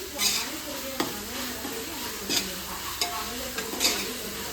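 Onions frying in a pan for chicken biryani, with a steady sizzle and repeated scraping stirs of a spoon against the pan, close and fairly quiet, no talking.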